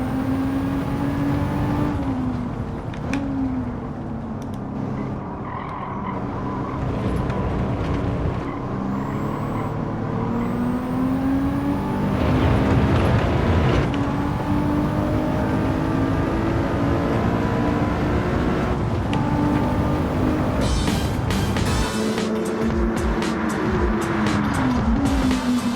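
Race car engines roaring in Gran Turismo 7, Japanese cars revving hard with steady high-pitched whine and gear shifts, loud and continuous throughout with no talk.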